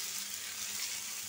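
Fish fries in a pan with a steady, soft, hissing sizzle throughout, close and fairly quiet, with no talking.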